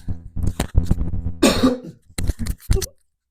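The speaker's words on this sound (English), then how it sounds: "Now I feel like I have to cough" A person talks briefly, then a single harsh cough breaks in, followed by a little more speech.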